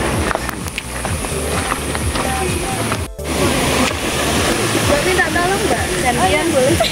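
A flowing river stream beside a gently sloping mountain trail on the way to Cendono hill, rushing and splashing steadily, with footsteps and a voice talking over it.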